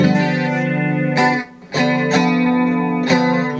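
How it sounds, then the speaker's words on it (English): Electric guitar played through a Danelectro Milkshake chorus pedal set to a light chorus, with sustained chords and a few sharp new strums ringing out loud and close. "I like just where it's really just a pinch of chorus."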